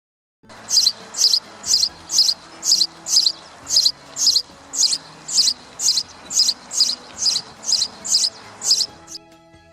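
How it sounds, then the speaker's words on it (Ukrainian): A sparrow sings in a steady series of about eighteen sharp, evenly spaced high chirps, loud and close, over a faint low background hum. "А давайте послухаємо, як співає горобець."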